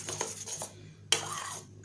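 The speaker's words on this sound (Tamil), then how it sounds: "ஜெலட்டின் நல்லா கட்டி எதுவும் இல்லாமல் நல்லா இந்த சுகர் பாகோட வந்து கலக்கணும்" A spoon stirring dissolved gelatin into hot sugar syrup in a pan over a low flame, with a few soft scrapes followed by two sharp metallic clinks.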